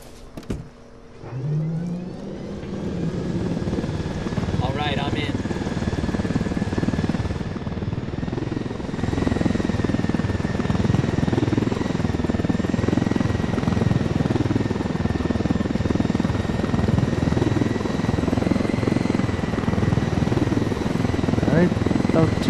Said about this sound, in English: let's go ahead and steal the the helicopter here.